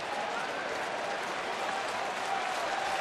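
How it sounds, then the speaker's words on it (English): Baseball crowd at a Mets–Phillies game in Philadelphia applauding a batter's swing, a steady wash of clapping and crowd noise filling the stadium throughout. "he'll get a nice round of applause from the crowd for that swing"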